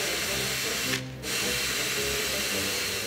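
Power drill running loud and close with a steady whirring motor tone, driving a screw, pausing briefly then revving again.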